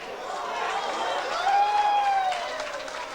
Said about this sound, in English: The crowd is going crazy with every shot that this guy makes